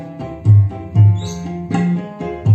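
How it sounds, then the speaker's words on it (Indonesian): Deep, boomy kick drum hits with heavy bass, about five thumps at a steady mid-tempo, loud and alone. "Ini suara kick."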